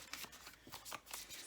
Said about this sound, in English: I'm gonna just shuffle and get some cards out for you.